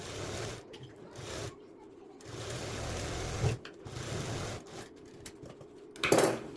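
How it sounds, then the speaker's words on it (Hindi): A sewing machine stitches the side seam of a blouse in several close bursts of rapid mechanical chatter, separated by short pauses. "तो ये सिलाई लगा के मैं आपको दिखाती हूँ।"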